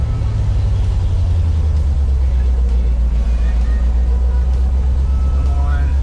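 Abandoned 1974 fire truck driving after years of sitting, its engine a heavy, steady low rumble close by throughout, with a person talking over it.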